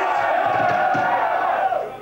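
A 1992 Sheffield rock concert audience roars and cheers continuously, a dense wash of voices and shouts filling the hall at steady loudness throughout.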